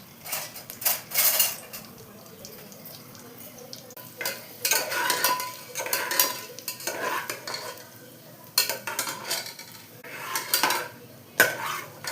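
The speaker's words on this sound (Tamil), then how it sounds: "இதில் பட்டை, கிராம்பு, சோம்பு, பிரிஞ்சி இலை ஒன்றா போட்டுடுறேம்மா. அது பொரிஞ்சி வரட்டும்." Cinnamon, clove, fennel and bay leaf frying in oil in a pot for coconut milk rice, heard as bursts of stirring and scraping of a utensil against the pot over a low crackle, coming in uneven clusters with short pauses.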